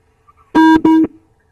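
A phone caller drops off a live Hindi TV news phone-in, leaving two loud, steady electronic beeps in quick succession, each roughly a quarter second long, with a short gap between them and quiet before and after.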